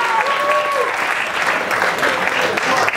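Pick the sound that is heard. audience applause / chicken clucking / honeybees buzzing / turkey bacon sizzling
audience applause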